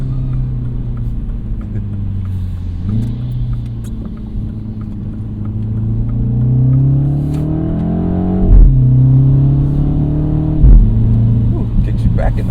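A 2025 Mini Cooper JCW engine accelerating in go-kart mode, a loud, close rumble that climbs in pitch through several gear changes with sharp drops between them.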